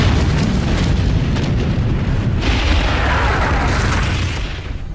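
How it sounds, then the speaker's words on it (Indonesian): A round alien entity explodes in a film: a huge, sustained boom with a dense roaring rumble that holds at full loudness, with a bright burst partway through before it starts to fade at the end. "tiba-tiba ledakan besar terjadi dari entitas bulat tersebut"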